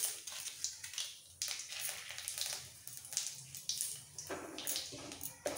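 Whole cumin seeds and a torn bay leaf frying in oil as a tempering, a quiet, uneven crackle and sputter with bursts of sizzle, no voices.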